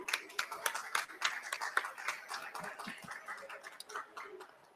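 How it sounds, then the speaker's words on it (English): A modest audience at an Arctic weather and climate event gives the speakers a round of applause: scattered, fairly quiet claps that thin out toward the end, with some voices mixed in. "I'd like to give our speakers another round of applause quickly."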